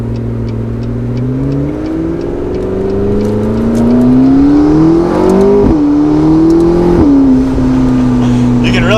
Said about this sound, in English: You can really hear the exhaust more.